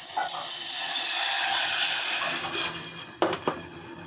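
Water hits a hot kadai of mustard seeds for a tangy, spicy-sweet raw hog plum dish, bursting into a loud, steady hiss that slowly eases, followed near the end by a couple of short clattering knocks.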